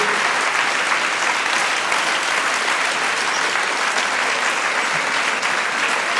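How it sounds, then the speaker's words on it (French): Sustained, dense audience applause fills a conference hall in Geneva, steady and loud from start to finish with no speech over it. "On peut les applaudir bien fort."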